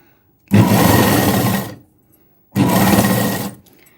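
Two bursts of a sewing machine stitching the shoulder of a boat neck blouse, each run lasting over a second with a pause between, steady and close.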